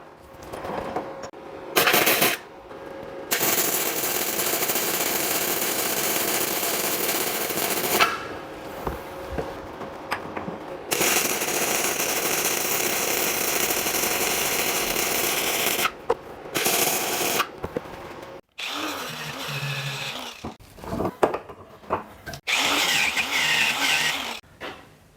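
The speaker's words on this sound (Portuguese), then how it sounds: "E agora, no processo MIG sem gás, vamos soldar essas duas chapas aqui." Gasless flux-core MIG welding joins two steel sheets with a Lynus LIM 160 machine. Several long bursts of loud, harsh crackling and sizzling arc noise are broken by short silent pauses, with a few brief clanks and handling sounds near the end.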